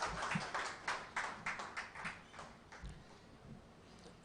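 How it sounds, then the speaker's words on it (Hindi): Scattered audience clapping at a Hindi poetry recital, a few quiet, uneven claps spread over about four seconds rather than a full ovation. "जोरदार तालियां।"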